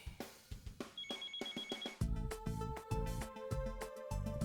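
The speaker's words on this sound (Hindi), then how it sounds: "आपके फोन का रिंगटोन बज रहा है" A phone ringtone plays as a musical melody, fairly loud and continuous, with tonal notes and a fuller beat-driven section in the second half, and no one talking over it.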